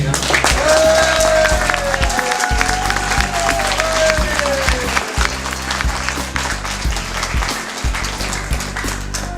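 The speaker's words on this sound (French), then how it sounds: "Je pense qu'on peut les applaudir" Wedding guests applaud a couple in a dense, loud burst of clapping over a steady low hum and a rising sustained tone, continuing for several seconds.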